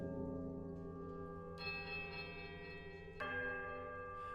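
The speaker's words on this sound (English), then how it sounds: "There's a quiet melodic chime from all 3 bells before their discordant voices meet in one powerful, rising rush of sound." Three bells in the Pillars of Eternity video game ring out in sustained, layered tones that swell in two steps into a loud, rising, discordant chord, heard alone with no talking.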